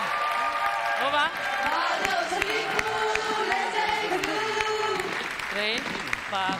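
Audience applause and cheering at a Romanian TV show, honoring women contestants and a dance group, steady and full throughout, with a host's voice and sung melody running over the crowd noise.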